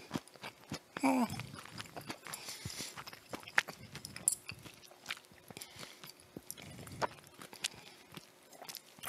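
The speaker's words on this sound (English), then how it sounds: "You can probably hear me chew." Someone chews a mouthful of sushi made with orange, with soft, wet, irregular bites and mouth sounds close to the microphone, quiet throughout.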